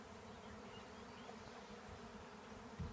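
A swarm of bees buzzes outdoors in a faint, steady drone that hangs in the air without breaks, with a soft bump near the end.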